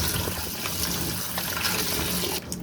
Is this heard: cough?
no